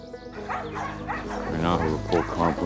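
Dogs at a sled-dog kennel in Willow, Alaska, give short yips and whimpering barks, fairly close, alongside a person talking.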